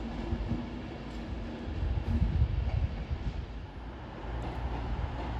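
An Avanti West Coast Class 221 Super Voyager diesel train rumbles into London Euston on a terminating service from Birmingham, a low, rough drone that swells briefly before settling.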